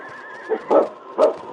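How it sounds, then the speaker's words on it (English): A horse whinnying in a Yukon outdoor radio-drama scene, two short nasal neighing bursts close and fairly loud over a faint background hum. "they both heard the sound of a horse's whinny"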